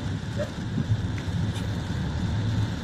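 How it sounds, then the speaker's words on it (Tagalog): Steady rain falling in Metro Manila during Typhoon Aghon, a constant dense hiss of drops with low rumbling underneath, moderately loud and unbroken across the moment. "Di ba ay di mahina naman itong ulan dito."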